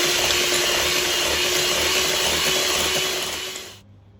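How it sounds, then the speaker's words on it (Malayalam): An electric mixer beats eggs into fruit cake batter with a steady, loud motor whine and whirring that runs continuously, then stops near the end, with no talking. "രണ്ടാമത്തെ മുട്ട ചേർത്തു അതും കൂടെ ഒന്ന് ബീറ്റ് ചെയ്തെടുക്കുക"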